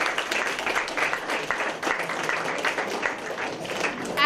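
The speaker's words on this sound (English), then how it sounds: "can we give a big round of applause for all those who are directly or indirectly involved in the success" An audience applauds at a feedback program, a dense, sustained burst of many hands clapping together, loud and steady throughout.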